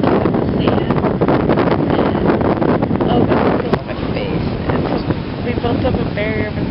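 Strong beach wind buffets the microphone with a loud, gusty roar, while people talk faintly beneath it.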